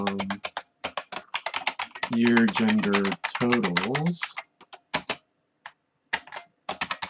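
Rapid clicking keystrokes on a computer keyboard, close and crisp, come in bursts while someone talks over them and pauses between phrases.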